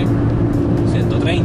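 A 1997 Mercedes-Benz C200 Elegance W202 engine pulling at around 3000 rpm, a steady loud cabin drone with someone talking over it.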